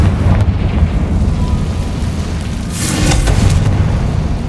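Heavy rumbling boom of an explosion spell in Hogwarts Legacy, loud and sustained with a brighter crackling burst near the end, no talk over it.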